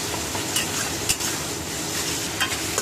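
Spice paste with tomato stir-fried for a prawn curry, a steady close sizzle with a few sharp scrapes of the spoon against the pan, no voices.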